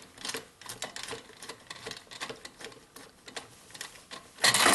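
Phillips head screw being backed out of a muffler bracket on a Jiffy 2-cycle engine cylinder, a run of quick close ratcheting clicks in an uneven rhythm, ending in a louder rasping burst.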